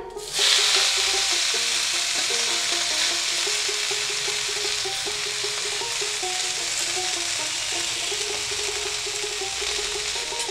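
Bottle gourd greens fry in hot oil in a wok, a loud, steady sizzle running unbroken for about ten seconds, with a soft repeating melody faintly underneath.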